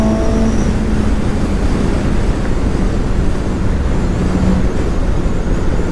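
2017 Suzuki GSX-S750 motorcycle engine on a test ride: a loud, steady, unbroken drone mixed with rushing road and wind noise, constant throughout.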